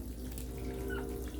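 Water runs steadily from a shower over a turkey hen, a continuous close hiss and splash with no pauses.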